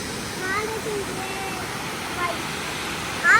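The Mantoka waterfall roars in a constant broad wash of rushing water, with faint children's voices and chirps rising briefly above it.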